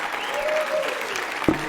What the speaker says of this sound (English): Round of applause for Lucas, everybody.